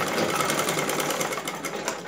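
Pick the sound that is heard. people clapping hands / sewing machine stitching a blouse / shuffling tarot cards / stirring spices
sewing machine stitching a blouse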